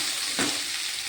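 Khichuri simmering in a pot after a tempering of dry chilli, bay leaf and five-spice, giving a steady soft sizzle with one brief louder crackle early on, no voices.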